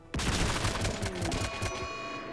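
Rifles fire in a rapid volley while colonists hunt Thrumbos in the video game Rimworld, a dense rattle of overlapping shots that keeps going for about two seconds.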